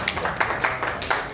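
Scattered handclaps from a small convention panel audience, a few sharp, sparse claps spaced irregularly at moderate distance rather than a full round of applause.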